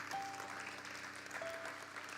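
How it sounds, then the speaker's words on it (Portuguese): Church congregation applauding during a sermon, a steady wash of clapping and crowd noise heard at moderate distance, continuous across the short stretch with a faint tonal whine running underneath. "Então dá uma salva de palmas para Ele."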